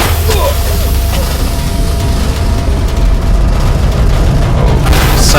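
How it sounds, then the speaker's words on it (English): A crumbling industrial structure in Amnesia: A Machine For Pigs, heard as a loud, continuous low rumble with deep booming impacts and scattered creaks and clatter, filling the whole stretch. "sounds like this entire thing is falling apart"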